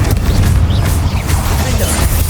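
An Incendio fire spell erupts in the video game Hogwarts Legacy: a loud, sustained roaring blast of dense rumbling noise that fills the whole moment without pause.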